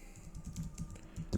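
Quick, light keystrokes on a computer keyboard while code is entered, a close run of soft irregular clicks with one sharper tap near the end.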